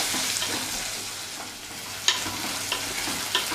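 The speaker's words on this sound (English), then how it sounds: "Give it a stir and let it saute on low flame." Sliced shallots sauté over a low flame in a pan for Kottayam-style Kerala fish curry, giving a steady soft sizzle broken by a few sharp spoon scrapes as they are stirred.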